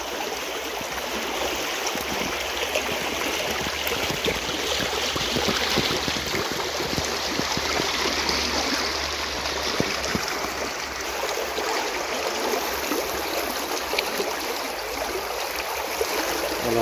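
Large volume of water rushing toward the Taksebt dam, a steady, loud, broadband roar of flowing water that continues unbroken throughout with no talk.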